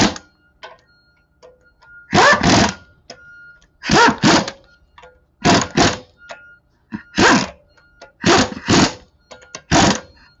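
A pneumatic impact gun snugs a car's wheel lug nuts in a star pattern, giving six loud, close double bursts of rattling hammering spaced about 1.5 seconds apart, with quiet mechanical clicks between them.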